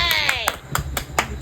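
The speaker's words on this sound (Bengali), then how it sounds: "হাততালি।" A short burst of hand clapping at a midnight birthday celebration, several quick claps close by with voices mixed in.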